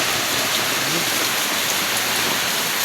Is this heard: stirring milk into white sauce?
no